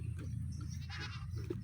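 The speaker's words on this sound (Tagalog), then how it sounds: "Maingay mga kambing ng kapatid ko." Goats kept on a farm bleat in the background, one wavering cry standing out briefly over a low, muffled ambient rumble, moderately faint.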